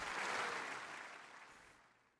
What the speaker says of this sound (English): there's the audience applause